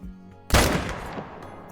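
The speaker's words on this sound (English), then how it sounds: "we're going to take him down with the M1 at about 160 and try" A single loud M1 rifle gunshot fired at a bull in the hunting game Call of the Wild, a sharp close crack followed by a long rolling echo that fades out.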